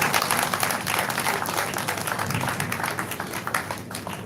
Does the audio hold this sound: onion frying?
no